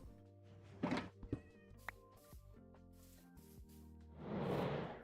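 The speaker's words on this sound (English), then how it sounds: "There's a cat somewhere and I don't know where it's at." A cat meows in the Minecraft video game, a few short calls mixed with thumps and other in-game sounds, with a broad rushing noise swelling at the end.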